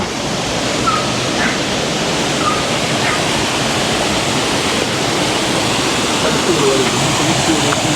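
A flooded muddy river rushing past, swollen with runoff from a nearby road, roars as a steady broadband rush of water that stays loud and unbroken throughout.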